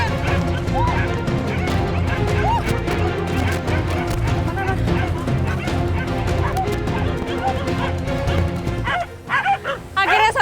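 Hunting dogs barking at a wild boar somewhere in the Samawa-Sasak countryside, steady loud commotion with repeated barks and yelps over a dense outdoor background, denser bursts near the end.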